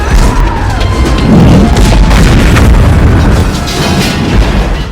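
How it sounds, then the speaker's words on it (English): Movie explosion from the 1992 film Alien 3, a loud, sustained roaring blast with deep rumbling and crackling debris that stays dense and heavy for several seconds without easing off. "Oh man, an explosion."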